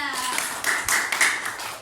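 A fourth-grade class applauding a student, a short burst of close, bright clapping from many hands that runs the whole moment.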